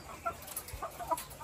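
Chickens cluck in short, scattered bursts on a small Filipino farm where the hens are laying plenty of eggs, with a few louder calls standing out against quiet background noise and no talking.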